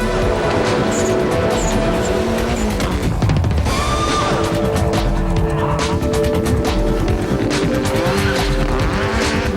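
Rally cars race on a short spectator special stage behind a casino, with loud engines revving, shifting and screaming close by, tires squealing and skidding, and crowd noise beneath throughout.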